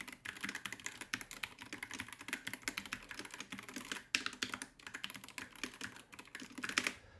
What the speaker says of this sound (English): I'll type on the keyboard.